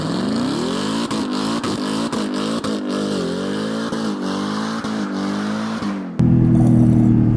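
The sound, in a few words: 2011 Jaguar XFR engine running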